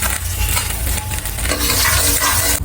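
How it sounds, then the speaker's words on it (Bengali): Whole garam masala spices hit hot oil for a Bengali prawn malaikari. A loud, dense crackling sizzle rises and falls, with light clinks from stirring. "তেলে গোটা গরম মশলাটা দিয়ে দিচ্ছি"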